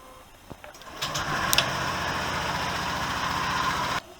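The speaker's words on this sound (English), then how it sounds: "I'm going to give it a run just to circulate the oil through the engine" A Honda PCX 125 scooter engine starts after a brief crank and settles into a steady, fairly quiet idle for a few seconds before abruptly stopping.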